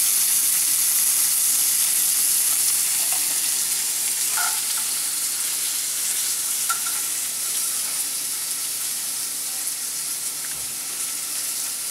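Buckboard bacon fries in a hot pan with a loud, continuous sizzling hiss that holds steady throughout, broken now and then by faint pops and small utensil taps.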